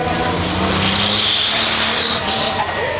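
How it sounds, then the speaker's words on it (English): Air Dog monster truck engine roaring loudly and steadily at a freestyle monster truck event in Lima, Ohio, a continuous dense motor roar with crowd or arena noise behind it. "She managed to keep in control of that big air dog monster truck."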